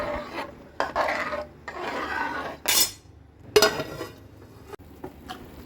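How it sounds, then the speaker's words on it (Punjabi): Rice stirred with lassi in a cooking pot for kadhi chawal, giving bursts of scraping and rasping from a utensil against the pot in uneven strokes, loud and close with brief pauses between passes, and no talking. "ਹੁਣ ਇਹਨੂੰ ਚੰਗੀ ਤਰ੍ਹਾਂ ਥੋੜੀ ਦੇਰ ਹਿਲਾਉਂਦੇ ਰਹਾਂਗੇ"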